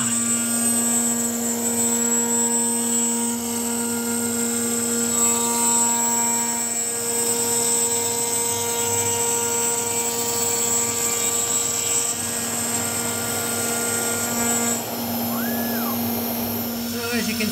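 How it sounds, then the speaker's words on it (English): A router fitted with a tiny 1/16 inch bit cuts fret slots in a hardwood guitar neck, a steady high-pitched motor whine running throughout with a rough cutting texture beneath, fairly loud and close. "we're cutting fret slots now. That is a little tiny 16th inch router bit."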